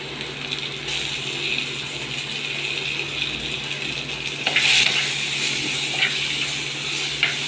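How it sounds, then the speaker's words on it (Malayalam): Chopped tomatoes sizzle in a pan with light-browned onions, a steady broadband frying hiss with a low hum beneath and a brief louder scrape of stirring midway, no voices. "മീഡിയം വലുപ്പത്തിനരിഞ്ഞ തക്കാളി ലൈറ്റ് ബ്രൗണായ സവാളയിലേക്ക് ഇടണം."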